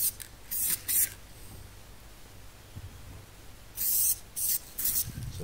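A spray gun mists etch primer onto a bare alloy Land Rover panel in two groups of short, sharp hissing bursts, separated by quiet stretches.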